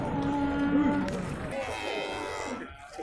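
At the Tokmok livestock market in Kyrgyzstan, a cow gives a loud, close moo that fades away, with market noise and voices faintly behind it.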